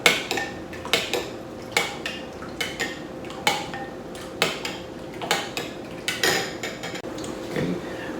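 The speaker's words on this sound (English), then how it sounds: "Grab a spoon, do a little mixy mix so that everything is mixed together." A spoon stirring ingredients in a bowl while cooking garlic butter salmon, with sharp repeated clinks and scrapes against the bowl in an uneven rhythm, close and clear with no talking.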